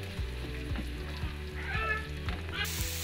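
Two medium sliced onions fry in oil in a pan, a soft continuous sizzle under background music, with a brighter burst of hiss near the end.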